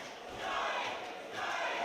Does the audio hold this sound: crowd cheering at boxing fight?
yes